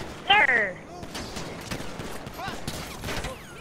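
Bursts of rapid gunfire from a shootout in Grand Theft Auto V, a loud cluster near the start followed by scattered shots and game noise, with someone talking over it.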